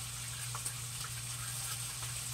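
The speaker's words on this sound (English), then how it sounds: "You want it good and seared now to hold all the juices inside the meat." An Angus beef roast sears in a hot pan, giving off a steady, faint sizzle that continues without a break.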